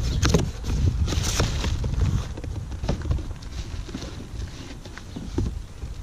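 A shipping package holding a new Dorman brake master cylinder is handled and opened up close, with crinkling, thumping and scraping bursts of cardboard and plastic throughout and no talk.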